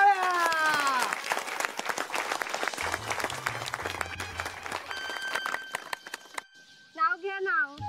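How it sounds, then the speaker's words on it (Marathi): Applause from a small crowd rattles in quick, scattered claps that thin out and fade, with voices and music heard around it. "टाळ्या."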